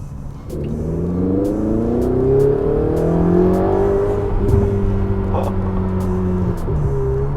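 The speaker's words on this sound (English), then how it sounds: "I'm going to use the paddle shifter, drop down to 3rd. And we're just going to gun it." A Ferrari 488 GTB in race mode, dropped to third gear with the paddle shifter, accelerates hard. The loud engine note climbs steadily in pitch over several seconds, heard from inside the car.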